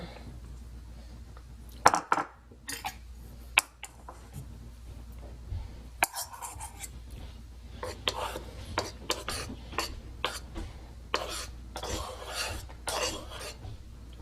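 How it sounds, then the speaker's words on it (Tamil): Mysore pak ingredients, including ghee, being mixed together in a pan, heard as scattered clinks and scrapes of a utensil against metal with soft stirring rubs between them. "இது ரெண்டுத்தையும் இப்ப நீங்க ஒன்னா மிக்ஸ் பண்ண போறீங்க"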